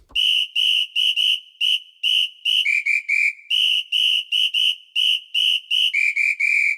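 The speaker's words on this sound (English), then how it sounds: "Plug Samba is a samba whistle sound" A shrill samba whistle blown in a lively rhythmic pattern of short and held blasts, alternating between two pitches, loud and close with no other sound.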